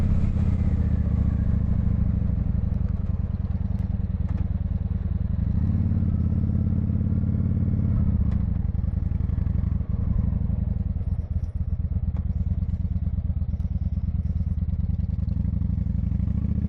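Honda VT1100 Shadow Ace motorcycle engine running steadily while riding, a loud, continuous low rumble with slight shifts in pitch and wind-like noise throughout.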